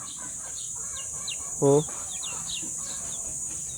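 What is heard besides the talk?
chickens clucking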